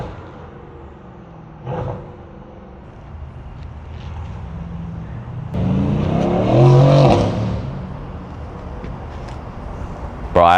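A straight-piped Mercedes-AMG GT with downpipes idles with a low rumble, then its exhaust roars loudly as the engine revs up in a sharp, raspy surge and falls back to idle, with a brief blip near the end.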